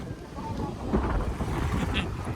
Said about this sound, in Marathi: हवा छुटली भाई.